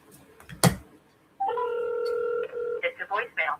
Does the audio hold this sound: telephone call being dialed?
yes